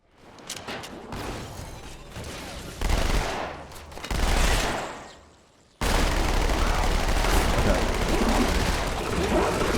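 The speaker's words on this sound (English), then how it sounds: "I hear them firing the shotgun" Shotgun fire in Halo 2, sounding as loud repeated blasts and bursts, first in choppy bursts with pauses and then a sustained, dense roar of gunfire with no pause.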